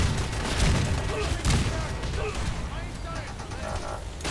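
Big guns fire in the video game Fallout 4 as a rapid volley of heavy shots and booms in the midst of noisy combat, with a voice talking over it.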